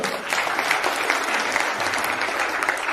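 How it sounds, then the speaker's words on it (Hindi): An audience claps in thanks to Jesus during a Hindi talk on music, a sustained dense round of applause from many hands, steady and fairly loud. "आइए ताली बजाते यीशु को धन्यवाद करें।"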